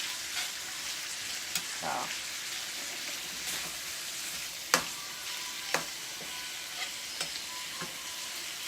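Collard greens, cabbage and bacon frying in a pan, a steady hissing sizzle broken by scattered clicks and scrapes of stirring, moderately close, with a brief spoken word.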